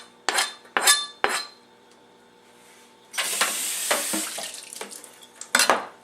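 Tap water runs over a peeled onion at a kitchen sink, a steady splashing gush lasting a couple of seconds, with sharp clinks and knocks of handling before it and after it, close and fairly loud.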